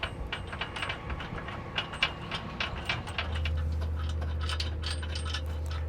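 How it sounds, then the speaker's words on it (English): Metal nuts being threaded by hand onto the bolts of a trailer hitch receiver on a 2021 Jeep Wrangler, giving soft close-up ticking and ratcheting clicks, with a steady low hum entering partway through. "And now take our nut. Hopefully you guys can see it. Let's thread that on all 4 of our bolts."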